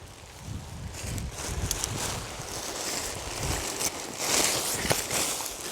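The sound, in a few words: wind blowing outdoors while pitching a tent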